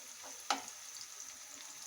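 Egg chops fry quietly in a pan with a faint, even sizzle, a single clear utensil clink near the start, and light crackles spread across the rest.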